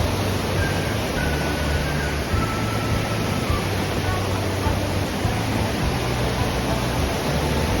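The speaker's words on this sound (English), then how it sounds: "We're right near the biggest part of the falls." A waterfall near Highlands, North Carolina roars as a dense, steady rush of falling water heard from close by the largest drop, constant and loud with no break.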